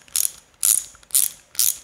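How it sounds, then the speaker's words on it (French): Ratchet wrench from a Temu bit kit, four short clicking bursts spaced about half a second apart, crisp and close with no talk. "Clé à cliquer. On va tester vite fait pour voir."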